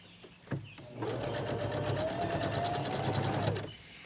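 Sewing machine stitching elastic onto a fabric face mask: a brief starting burst, then a steady rapid mechanical whir for about two and a half seconds before stopping, close and clear.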